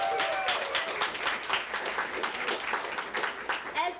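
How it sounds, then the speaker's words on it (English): Audience clapping for a poet at a bookstore reading event, a dense, steady patter of many hands filling the room with a few brief voices mixed in. "Let's clap for Ez."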